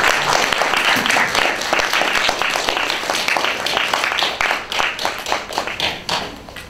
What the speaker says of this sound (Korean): 여러분들 큰 박수로 맞아주시기 바랍니다.